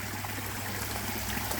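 A steady trickle and splash of water spills down a garden pond waterfall, an even, unbroken flow with a faint low hum beneath it and no talking.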